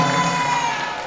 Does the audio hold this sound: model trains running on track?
no